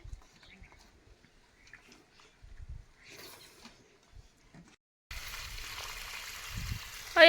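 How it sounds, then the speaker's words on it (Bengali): Irrigation water being let into a potato field: a quiet outdoor stretch with faint distant voices and small rustles, then a steady rushing gush of flowing water rises for the final couple of seconds. "এখানে মাঠে জল দিচ্ছে, আলু মাঠটাতে"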